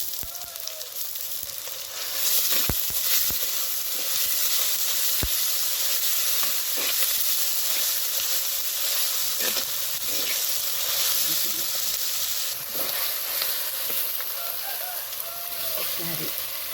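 Garlic and curry leaves frying in hot oil for chicken pepper fry, a loud continuous sizzle and hiss with occasional sharp pops and spatters, no talking over it.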